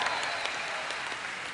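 A crowd at a live World of Warcraft raid event applauds steadily and loudly, a dense wash of clapping that carries through the whole moment.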